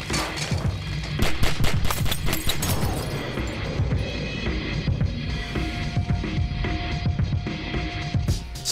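Rapid sniper and automatic gunfire in a stick-figure shooter game, a dense burst of loud cracks early on that thins into scattered shots and a lingering rumble, with no talk.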